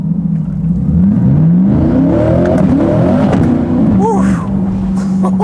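Tuned 1000 rwhp Chevrolet Corvette C8 accelerating hard from low speed, engine note loud and climbing through rising revs with a brief shift, tires struggling for grip, heard from inside the car.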